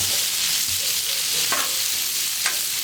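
Ground pork fries in sesame oil in a pan, a loud steady sizzle close up, with a couple of brief scrapes as the meat is broken up.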